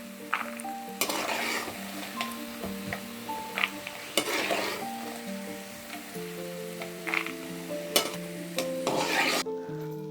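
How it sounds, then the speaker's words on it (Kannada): Peanuts fry in oil over a medium flame while a utensil stirs and scrapes the pan. A steady sizzle runs throughout with recurring broadband stirring strokes, and a background music bed plays underneath. "ಮೀಡಿಯಮ್ ಫ್ಲೇಮಿಂದ ಈ ರೀತಿ ಶೇಂಗಾನ ನೀವು ಫ್ರೈ ಮಾಡ್ಕೊಳ್ಳಿ"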